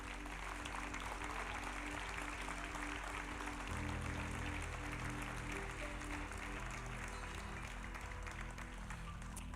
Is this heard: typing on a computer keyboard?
no